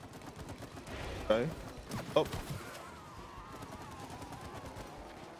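Gunfire aimed at the Wasp Queen boss in the video game It Takes Two, a couple of quick bursts of game shots under players talking over one another, then fading into a quieter musical background.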